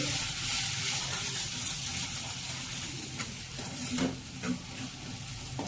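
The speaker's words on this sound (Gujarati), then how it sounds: "બધા મસાલાને બરાબર મિક્સ કરી લઈએ।" A spoon scrapes and stirs spices with coriander-cumin powder in a frying pan over a low, steady sizzle, with a few clearer scraping strokes near the end.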